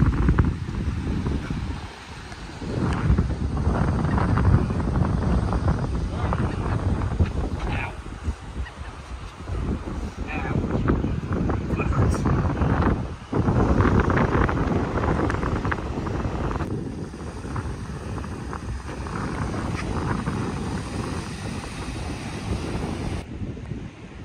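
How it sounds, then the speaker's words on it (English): Wind buffeting the microphone, a rough low roar that gusts and eases continuously throughout, loud and close. "It's a little windy."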